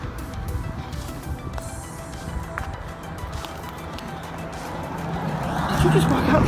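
A vehicle passes along a road outdoors, its broad rumble building and growing loudest near the end over steady outdoor background noise.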